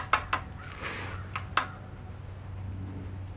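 A rubber mallet strikes a socket to seat a wheel bearing on a Bayou 300 ATV, giving a handful of short, sharp metallic taps, two quick ones, then a pause and two more, up close.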